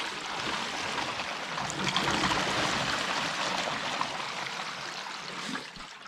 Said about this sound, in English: This is how much water comes down it.